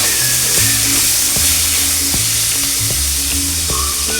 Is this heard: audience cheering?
no